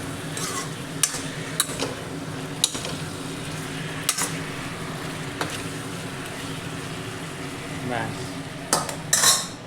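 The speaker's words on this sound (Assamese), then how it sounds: "তো ধুনীয়াকৈ আলু পিঁয়াজখিনি মিক্স আপ কৰিলোঁ" A utensil stirs a potato and onion mixture in a pot, with scattered scraping clinks and taps against the metal over a low steady kitchen background.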